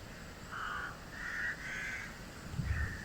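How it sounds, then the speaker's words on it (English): Several crows caw one after another at a distance in a churchyard cemetery, over a low, steady outdoor rumble. "you might hear there now the crows"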